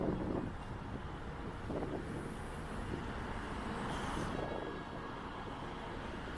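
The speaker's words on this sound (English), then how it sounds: "Man, it is windy." Strong wind buffets the microphone near a beachfront construction site in Myrtle Beach, SC, producing a steady, heavy low rumble with gusty swells throughout and no speech.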